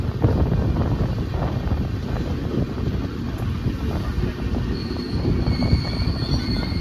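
The Pinakini Express rolls through Chirala station, a loud, continuous rumble of wheels and carriages heard from on board, with wind buffeting the microphone and a thin squeal of wheels rising late.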